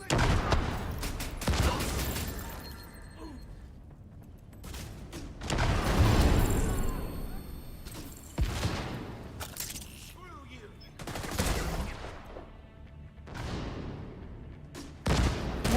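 Artillery turret in the video game The Division 2 firing repeated heavy blasts in bursts, mixed with surrounding gunfire and faint game voices.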